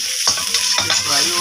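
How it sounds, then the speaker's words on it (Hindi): Garlic fries in oil in a pan for chicken Manchurian fried rice, a bright, close, continuous sizzle with a couple of brief stirring scrapes, loud and free of speech. "लहसुन को मैं कर लूँगा थोड़ा सा फ्राई।"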